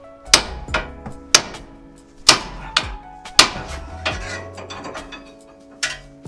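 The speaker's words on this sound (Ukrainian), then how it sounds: "просто молотком отут нормально вдарити і вона нормально виходить" Sharp metallic hammer blows strike a steering tie rod end on a Citroen C8, ringing out one after another at an uneven pace, about a dozen strikes, each with a short metal ring, close by.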